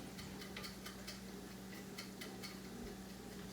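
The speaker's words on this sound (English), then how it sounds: "I have to listen for the ticking." Steady mechanical ticking of an oven timer at a regular pace, faint and close, with a soft background hum and no voices.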